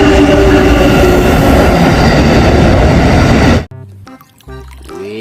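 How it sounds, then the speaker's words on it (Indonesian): A toy train runs loudly and close during cleaning with a dense rattling, rumbling clatter for several seconds, then cuts off abruptly and gives way to quieter clicks and faint tones. "Wadidaw, kereta api cepat."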